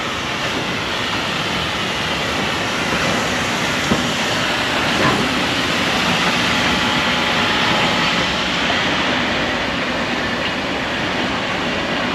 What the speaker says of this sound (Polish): A my czekamy na pociąg.